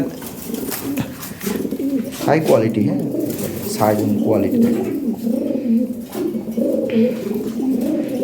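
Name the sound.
Lahori Sherazi pigeons cooing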